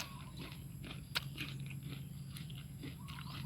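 Someone bites into a crisp, juicy red Jay Jay Red fruit from a Sisaket farm, giving soft crunching and chewing sounds close to the mic over a steady low background hum.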